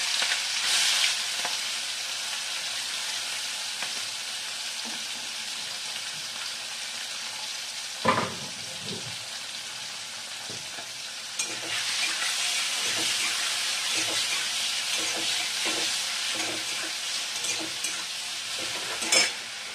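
Shrimp coated in salt and turmeric fry steadily in a pan with oil, giving a constant close sizzle broken by occasional clacks of a utensil against the pan.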